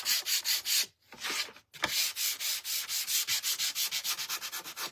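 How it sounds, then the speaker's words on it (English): Sandpaper is rubbed rhythmically against wood, making steady, close, scratchy back-and-forth strokes with two brief pauses. The strokes grow quicker and shorter toward the end. "I need new sandpaper is what I need."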